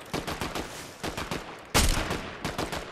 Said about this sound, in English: The AI's shooting at them.